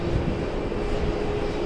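A jet airliner taxiing at JFK airport gives a steady, loud engine roar with a faint constant whine, unbroken and close throughout.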